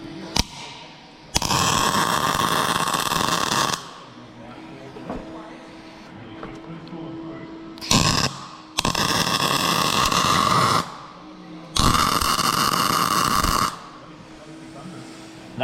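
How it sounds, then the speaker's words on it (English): Welding around a repair on an auger: several long bursts of steady, loud crackling hiss, each lasting a few seconds, separated by quieter gaps with faint background noise. "I'll just weld around it."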